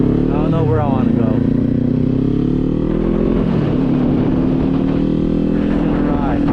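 Kawasaki Z400 motorcycle engine while riding, a steady droning hum with small rises in revs, heard close throughout, with someone talking over it.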